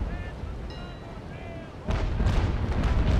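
Ship cannons fire in a naval battle video game, a low rumbling barrage that swells into a loud, dense roar of booming shots over continuous background noise, with a voice briefly speaking beneath it.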